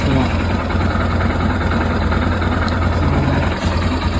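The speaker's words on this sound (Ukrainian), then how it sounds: "тисяча оборотів стабільно тримається" A 2023 Geon X-Road 250 motorcycle with its factory carburetor settings idles steadily at about 1000 rpm, a close, continuous low engine rumble that stays even throughout.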